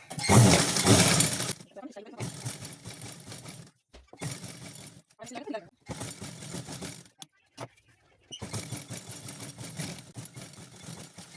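A sewing machine stitching a seam on trousers, heard in several bursts of whirring motor noise separated by short pauses, fairly close and moderately loud.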